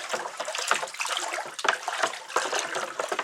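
A liquid pickling solution for a coyote hide being stirred in a lidded container, a close, continuous sloshing and trickling of water with no talk.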